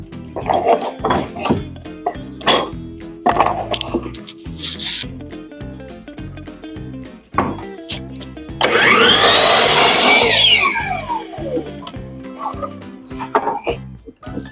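A table saw rips a board of scrap wood, giving one loud, sustained whine for about two seconds. Knocks and handling noises come before and after it.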